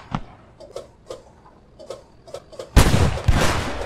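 A tank cannon fires in Post Scriptum, a single loud, close blast that booms and rolls away, after a series of soft, evenly spaced ticking clicks.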